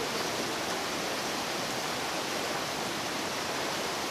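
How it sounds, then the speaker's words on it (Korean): Sipi Falls, a three-tiered waterfall on Mount Elgon, roars in a steady, dense wash of falling water, even and unbroken throughout with no voices. "이 엘곤산을 더 유명하게 만든 것이 있었으니 바로 시피 폭포다."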